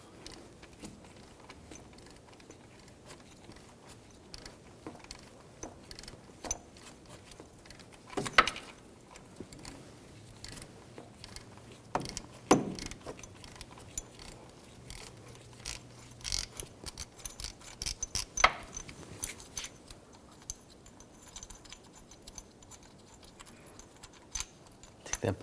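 A ratchet works loose the tensioner pulley bolt on a 2011-2018 Volkswagen Jetta TDI wagon, giving scattered quiet clicks and metallic clatter with brief louder bursts, close by and with no talk.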